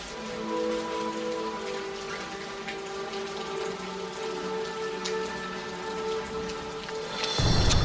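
Steady rain falls in the Amazon rainforest, a continuous dense patter of drops on surfaces near the listener, with a louder splashing surge at the very end and no voices.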